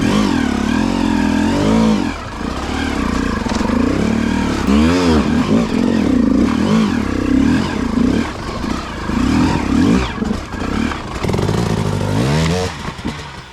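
Dirt bike engine revving and bogging in uneven bursts as the rider slips the clutch over creek obstacles, loud and close with clattering and changing pitch throughout.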